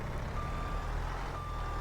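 Reversing beeps from a dump truck in the Farming Simulator video game, a steady repeating tone pulsing over a continuous low engine rumble, no voices.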